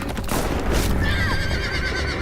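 A horse whinnies loudly in The Walking Dead video game, a rising, wavering cry over a dense low rumble of game ambience, with a brief burst of noise just before it.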